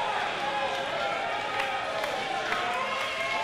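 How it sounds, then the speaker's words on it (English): A wrestling crowd at a Sports Entertainment Xpress match roars and cheers continuously as a dense, steady wall of voices, with occasional sharper shouts and claps standing out. "The crowd's going nuts."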